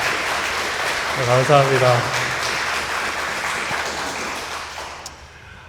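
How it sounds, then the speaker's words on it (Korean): A church congregation applauds the Ebenezer choir with a steady wash of clapping that fills the room, and a voice briefly speaks over it before the sound fades out near the end. "에베네셀 찬양대를 위해서 다시 한번 함께 박수로 격려하겠습니다"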